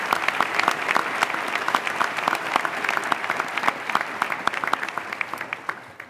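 A crowd at a college commencement claps steadily for several seconds, a dense patter of applause that thins out and fades toward the end.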